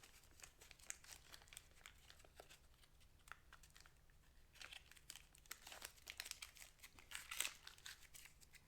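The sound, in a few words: tape being pulled and handled over brake caliper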